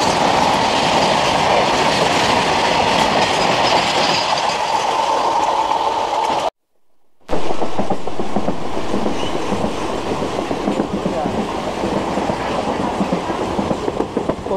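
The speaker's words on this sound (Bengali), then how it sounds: "এখন কিন্তু একটা মালবাহী ট্রেন ক্রস করছে।" A goods train rolls through a station, loud, steady clattering and rumbling wagons close by, briefly cut out midway, then continuing with rhythmic wheel clicks.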